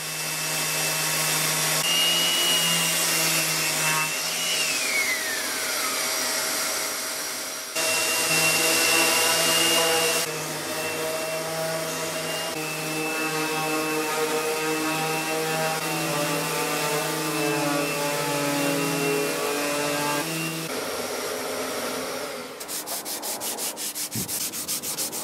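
Circular sander running steadily on a wooden drawer during furniture restoration, a loud continuous whirring rub with pitch shifts as pressure changes, briefly dropping near the end before resuming.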